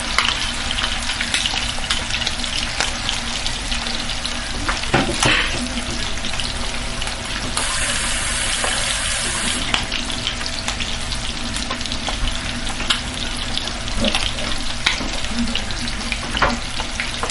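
Lengthwise-chopped onion fries loudly in fish sauce for jollof rice, a dense, constant crackle and sizzle with sharp pops of splattering oil running throughout, close up and without speech.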